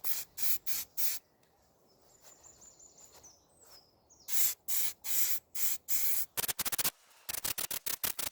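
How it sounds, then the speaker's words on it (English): Repeated short bursts of primer spray hiss on an alloy wheel, evenly spaced passes with brief pauses between, then a run of rapid quick spurts near the end. "again spray evenly with long and repeated spray passes to build up a heavier layer here"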